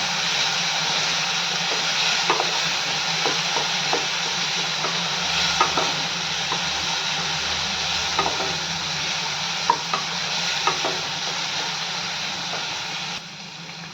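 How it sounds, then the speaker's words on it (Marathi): Tomatoes and curry leaves sautéing in a pan for upma, with a steady broadband sizzle and scattered clicks of a spoon stirring throughout, fairly close and continuous, with no voices. "टोमॅटो पण छान परतून घेऊयात"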